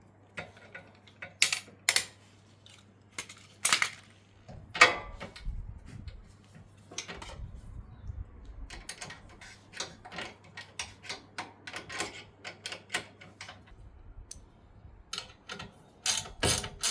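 A ratchet clicks in short close bursts as nuts are fitted onto bolts riveted to the frame bracket of an FF Group 8.5kva generator, with pauses between runs of rapid ticking.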